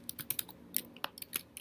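Fingers type on a computer keyboard during Python coding, producing quiet, irregular clicking keystrokes in short bursts with no talking.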